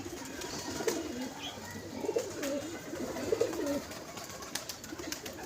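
Pigeons coo in low repeated throaty calls at close range around a pigeon loft, several soft rolling phrases over a quiet background.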